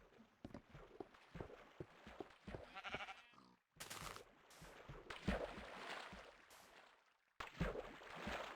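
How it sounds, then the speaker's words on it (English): Minecraft sheep bleat several times in short bursts, mixed with game footstep sounds and other in-game noises, fairly close and clear. "Oh, sheep alert."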